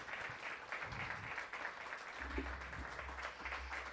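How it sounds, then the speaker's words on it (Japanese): An audience at a live jazz concert applauds as a saxophonist is introduced for a solo, quiet distant clapping with a low hum underneath. "大きな拍手をお願いします。"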